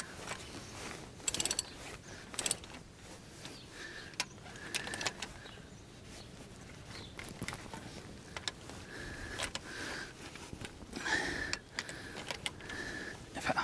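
Ratcheting clicks and metallic turning as wheel spacer nuts are tightened on a Land Rover Discovery 3, coming in intermittent short runs between quieter pauses, close by at moderate level.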